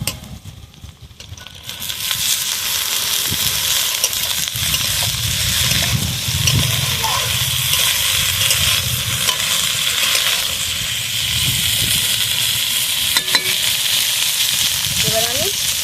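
Figs tossed into lightly fried onions in a pan, giving a steady close sizzle with intermittent stirring scrapes for most of the stretch after a quieter opening, and no talk over it.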